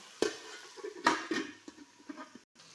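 A lid is set on a pan of bitter gourd and tomato curry with a few sharp metallic clatters and knocks over a faint, low simmer.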